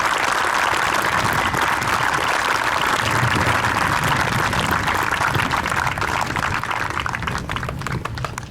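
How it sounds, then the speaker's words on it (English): A crowd claps through a sustained round of applause for Joanne at a retirement tribute during a high school final game event, dense and even, tapering slightly at the end. "Joanne, now is your time for us to give you a well-deserved round of applause."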